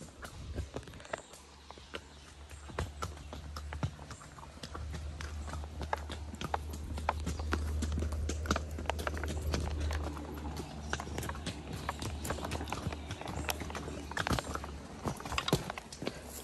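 Horses' hooves clip-clop steadily on a trail ride in the Dominican Republic, a close, continuous walking rhythm with low rumble beneath and no talk.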